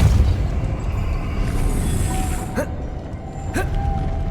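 The Depulso force spell goes off in Hogwarts Legacy over a constant loud rumbling game ambience, with two sharp, brief bursts about a second apart.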